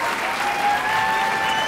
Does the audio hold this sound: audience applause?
yes